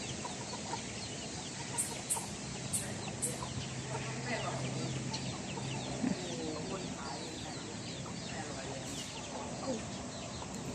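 Chickens cluck and murmur in a busy farmyard, with a few sharper calls breaking through the steady background clamor.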